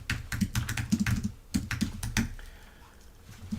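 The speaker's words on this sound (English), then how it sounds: "Let's type it, right?" Rapid keystrokes on a computer keyboard, clattering in quick close bursts for about two seconds before trailing into quiet room tone, with no voices.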